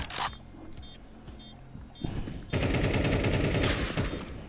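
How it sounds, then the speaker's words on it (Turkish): Automatic gunfire in the Counter-Strike 2 video game empties a full magazine: a few spaced shots and clicks first, then a dense, loud burst of rapid fire lasting about two seconds. "Bütün şarjörü boşalttık ya."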